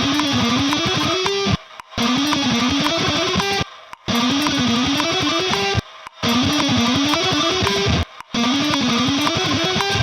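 Guitar repeating a short scale fragment at 112 bpm, quick even runs of notes in four bursts separated by short silent breaks, played alone.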